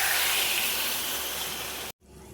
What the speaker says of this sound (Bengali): এবার আমি পনিরটা দেখো কড়াইয়ের মধ্যে দিয়ে দিচ্ছি।